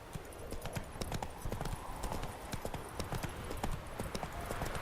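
Horse hooves clip-clop at a steady walking rhythm in The Witcher 3, close and continuous throughout with a faint voice now and then.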